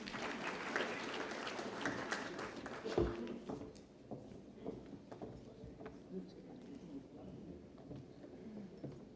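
Applause from an audience at a national conference on technical textiles, a dense burst of clapping at the start that thins into scattered claps and tails off, with faint talk underneath.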